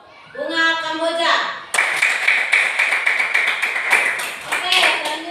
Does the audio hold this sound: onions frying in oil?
no